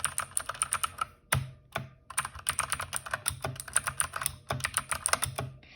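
Close-up typing on a mechanical keyboard with blue switches: rapid bright clicks, broken by a few heavier, deeper thumps that stand out from the rest, with short gaps between bursts and no speech.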